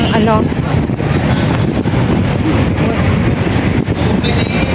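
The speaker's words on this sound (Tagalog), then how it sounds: "Sobrang hangin." Strong wind in Baguio roars and buffets the microphone throughout, a dense, constant rush with gusty fluctuations.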